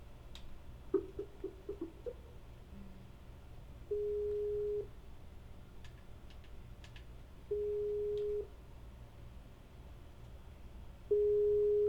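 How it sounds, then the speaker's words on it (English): Telephone ringback tone while placing a call, three evenly spaced long electronic beeps repeating alone over faint background hiss, with a few small clicks before the first one. "we'll get her on the phone right here pretty quick"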